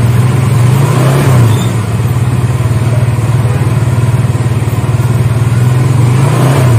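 A Suzuki GSX-R150 motorcycle engine with its exhaust modified, held near 3000 rpm: a loud, close, steady buzzing drone with a slight rise and dip in pitch, no speech over it.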